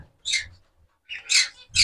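Pigeons in a loft give short, sharp squeaky calls in two or three quick bursts, close by, with quiet gaps between them.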